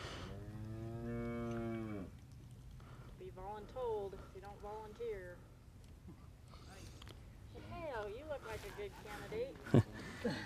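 Cattle moo in a handling area during a livestock demonstration, one long loud low moo first, followed by several quieter, higher calls nearby, with no talking.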